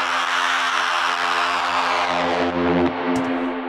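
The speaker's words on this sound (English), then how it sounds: "like kind of a sustained horn sound" A sustained synth horn-like note for Berlin techno, thick and buzzy with a long reverb decay, holding steady for about three seconds before cutting off into a brief tail.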